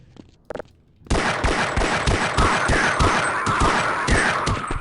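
Rapid automatic gunfire in the video game Half-Life. After a couple of faint clicks, a loud, steady stream of close shots hammers on without pause for several seconds.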